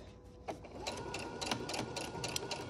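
A sewing machine stitches a fabric face mask up close, a steady rapid mechanical whirring with fine clicking that runs unbroken through the clip.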